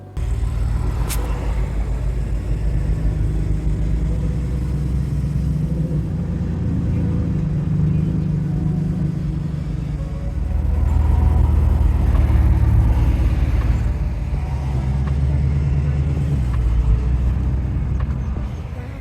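Steady low rumble of a Mercedes car driving, engine and road noise heard from inside, swelling slightly louder partway through.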